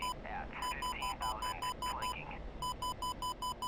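Missile warning tone in the DCS flight simulator, sounding as a steady train of short, evenly spaced electronic beeps that pause briefly partway through and then resume in the same quick rhythm.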